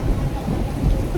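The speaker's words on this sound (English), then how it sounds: "there's thunder and lightning all above us right now" Thunder rumbles low and heavy over steady pouring rain during a storm in Singapore, a dense, continuous wash of sound with no voices.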